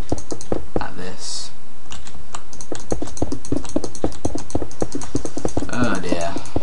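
Rapid, uneven clicking of a computer keyboard and mouse during a city-building game session, close and dry with bursts of keystrokes and brief pauses, a voice speaking faintly in places.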